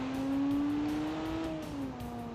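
A car engine accelerates hard in the BeamNG.Drive driving game. It holds a steady, loud tone that climbs gradually, steps through shifts, and dips near the end, with road rumble underneath and no talking.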